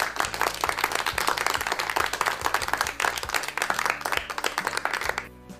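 Loud, steady applause from a crowd played during a Filipino radio school lesson for young pupils, dense clapping running for several seconds with no voices over it before cutting off at the end.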